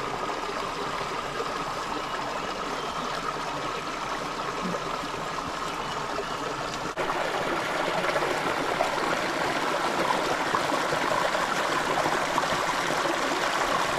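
A river in a nature spot in Mabitac, Laguna, Philippines rushes steadily, a broad continuous wash of flowing water heard close and alone, growing slightly louder halfway through.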